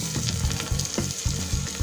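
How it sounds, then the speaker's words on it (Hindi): Potatoes fry in a pan of oil with onions for dal khichdi, a loud continuous sizzle broken by spatula scrapes and stirring knocks at close range, with no talking. "आलू भून लेंगे"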